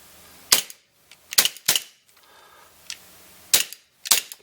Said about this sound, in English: We're going to just fire a few rounds here.